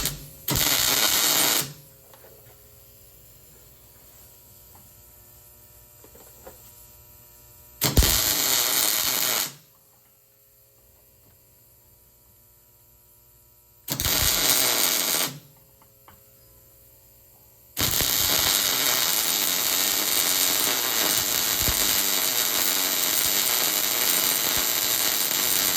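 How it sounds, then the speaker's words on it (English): Welding one end of a reconfigured two-piece Ford F150 driveshaft front section, heard as several bursts of bright, steady crackling hiss from a few seconds to long stretches, separated by quieter gaps with a low hum. "ride along with me while I fry one end, and then we'll turn it around and weld the other end."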